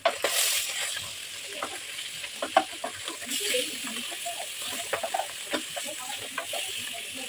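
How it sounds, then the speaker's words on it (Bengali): Fish fries in hot oil in a wok with a steady, crackling sizzle and occasional stirring scrapes running throughout, close and moderately loud. "মাছে কিন্তু চামড়া ফুটে"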